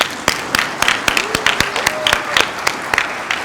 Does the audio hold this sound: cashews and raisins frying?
no